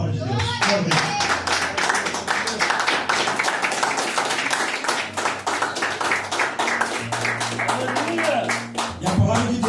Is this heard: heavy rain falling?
no